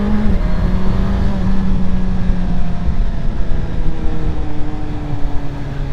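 A Suzuki GSX-S1000GT motorcycle ridden on Peak District roads between Winkhill and Ilam, a steady loud engine drone with shifting pitch and heavy wind rumble, heard close from the rider's position.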